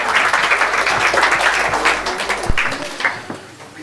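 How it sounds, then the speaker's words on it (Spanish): Congregation applause during a church service, a close, loud wash of clapping that swells and then tapers off, with a sharp single knock partway through. "Den un aplauso a Dios"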